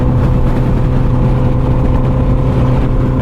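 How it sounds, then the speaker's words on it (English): A fast truck at a car meet produces a loud, steady engine drone with a humming, rumbling tone, close by and buffeted by wind. "Man, fast truck, boys."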